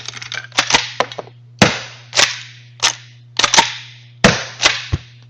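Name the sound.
blank-firing pistol shots and slide racking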